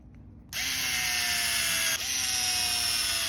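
After a brief quiet moment, a power driver whirs up and spins steadily, with one short dip midway, tightening screws on the plastic spur gear of a Traxxas MAXX RC truck up close.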